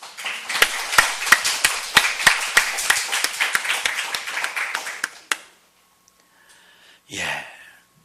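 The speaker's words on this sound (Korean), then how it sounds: "감사와 영광의 박수를 올려드리겠습니다." A church congregation at a Sunday worship service applauds with dense, lively clapping for about five seconds, then it stops abruptly and only a faint breath follows.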